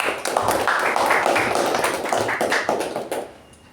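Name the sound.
applause for the Toastmaster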